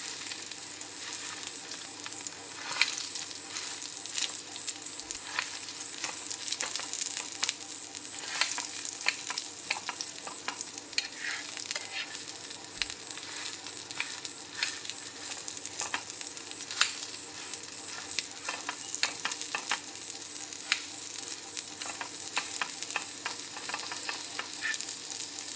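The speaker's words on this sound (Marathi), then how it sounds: "क्यूब ही एकदम 1-2 मिनिट फ्राय करून घ्यायचे, जेणेकरून पूर्ण पनीर छान फ्राय होईल" Paneer cubes frying in a pan for hotel-style shahi paneer, a steady, dense sizzle and crackle that runs the whole time with small spits and stirring clicks, close up with no talking.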